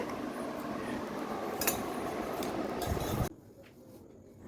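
Dishes and utensils clatter steadily in a home kitchen during late-night cleanup, a dense rattling wash with a few sharper clinks, cutting off abruptly near the end and leaving a quiet room.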